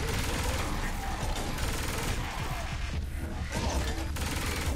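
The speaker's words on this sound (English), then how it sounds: "Heavy machine gun." A heavy machine gun fires continuously in the video game Saints Row 4, a dense, loud rattling barrage with crashing impacts that barely lets up.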